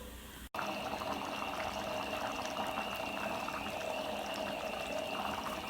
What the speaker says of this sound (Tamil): ஒரு நிமிஷம் கொதிக்கிட்டோம்.